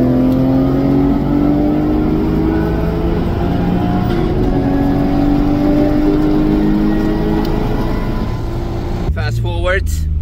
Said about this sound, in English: once you're through the cones you can accelerate